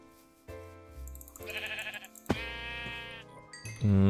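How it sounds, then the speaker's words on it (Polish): Several Minecraft sheep bleats in a row, some wavering and nasal, with short gaps between them; the last one is loudest and closest, with no talking. "O, jeszcze dwie owieczki, ale fajnie."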